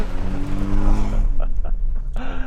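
A 2025 Toyota 4Runner TRD Pro engine revs hard off-road in sand mode with 4 high, then drops sharply as traction control cuts the throttle, followed by brief stuttering bursts and a rising whine, all loud and close.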